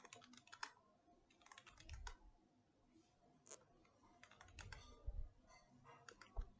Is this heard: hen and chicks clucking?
no